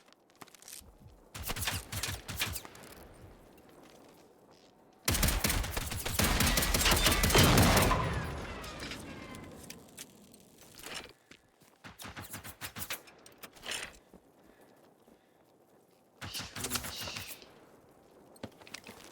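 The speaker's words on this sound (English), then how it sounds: "that thing is shooting from far" Enemy machine fire from a distant robot in the video game Generation Zero, set in rural Sweden, with rapid bursts of shots. One dense volley runs for a few seconds and scattered shorter bursts follow, moderately loud and echoing.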